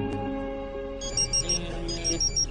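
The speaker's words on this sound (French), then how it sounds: "c'est ton téléphone." A telephone rings with two bursts of high, bright trilling tones over a steady indoor background hum.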